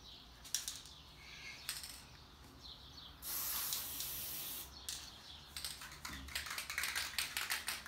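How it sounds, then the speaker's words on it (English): Spray paint hisses from a can onto a fidget spinner in a sustained burst, followed by short clicking rattles and quick repeated sprays, close and without talk. "So I'm just gonna cover it in spray paint."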